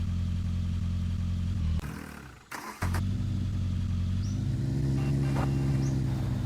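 A car pulling away, its low engine rumble steady and close, broken midway by a brief clatter and dip before the drone returns as the vehicle rolls off.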